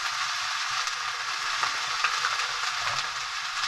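Cabbage and potatoes fry in a pan while being stirred, giving a steady bright sizzle with soft scraping and shuffling throughout and no voices.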